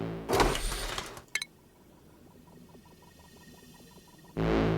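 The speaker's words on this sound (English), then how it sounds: "Those things sound like seagulls at the beach." Small alien creatures in the Oxygen Not Included video game give off a steady run of faint, squeaky, gull-like chirps, set between louder game sound bursts at the start and end.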